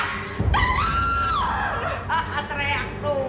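A woman screams in an Indonesian horror film: loud, long, wavering cries that rise and fall, with brief harsh shouting between them.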